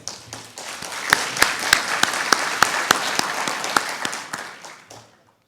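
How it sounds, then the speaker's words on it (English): A crowd applauds steadily for several seconds at a conference inaugural session in Singapore, dense clapping with a few sharper claps standing out, then fading away to silence. "please give all our sponsors, partners and supporting bodies a resounding round of applause."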